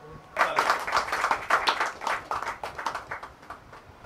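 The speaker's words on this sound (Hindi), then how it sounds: "जोरदार तालियां होनी चाहिए।" An audience at a press conference claps in a steady, moderately loud burst of applause lasting a few seconds, dense at first and gradually tapering into looser, uneven claps.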